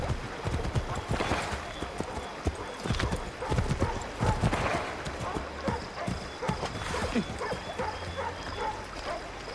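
Horse hooves clip-clop steadily in Assassin's Creed 3, a rapid rhythmic patter of a ridden horse over busy game ambience, with occasional whinnies, dog barks and voices mixed in.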